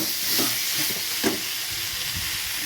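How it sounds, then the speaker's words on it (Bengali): Spice paste of ground ginger, onion and turmeric sizzles steadily in hot oil in a pan, a soft continuous hiss with a few louder spits and stirring scrapes, close by. "দিয়ে দেবো এই পেস্ট করা মশলাটা, ওটা দিয়েও ভেজে নেব"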